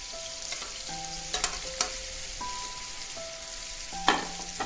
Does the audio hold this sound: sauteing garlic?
yes